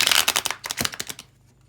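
Deck of playing cards being shuffled at close range, a quick riffle of rapid crackling flutters that bursts, pauses briefly, then rattles again and fades out.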